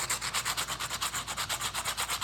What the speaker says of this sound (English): It looks like it's just sanding down regular.